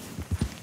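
Horse hooves clip-clopping in Red Dead Redemption 2, three distinct close thuds in an even walking rhythm over a low background.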